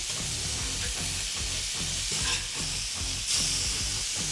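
Smash burger patties for a Whopper-style copycat sizzle steadily on a hot griddle after being flipped, a loud continuous frying hiss with a faint rhythmic pulse underneath.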